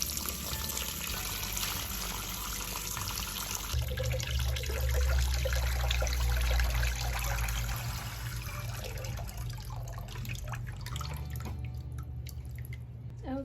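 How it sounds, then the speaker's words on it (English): Water pours steadily into a small pot for a mini pond, a continuous splashing and trickling rush that deepens slightly partway through as the pot fills. "the next thing I need to do is fill this pot up with water"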